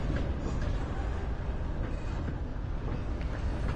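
A train rolling along in the Western video game Red Dead Online, a dense, steady rumble of wheels and carriages at close range with no break, no voices over it.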